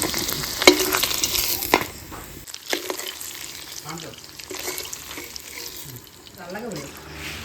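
Homemade paneer frying lightly in a pan, a sizzle with stirring and scraping that is loudest in the first couple of seconds, then quieter frying as a voice talks briefly in the background.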